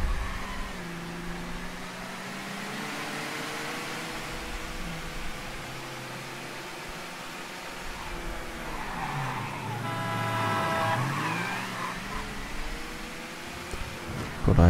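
A car in the video game Mafia 3 drives over rough terrain with a continuous engine drone, rising and falling revs, and bursts of tire skidding and squeal around the middle, all fairly steady and without talk.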